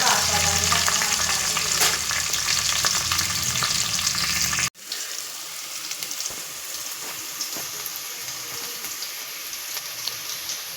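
Shallots, garlic and curry leaves frying in hot oil for a Palakkad fish curry, a loud dense crackling sizzle that drops after a sudden cut into a quieter, steady bubbling fry with light pops.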